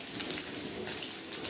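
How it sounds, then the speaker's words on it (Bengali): Potatoes frying in a pan of oil for a spicy Bengali aloo dum, giving a steady, dense crackle and sizzle that stays even and close throughout, with no voices. "আমি আস্তে আস্তে প্রথমে ভেজে নেব আলুগুলো"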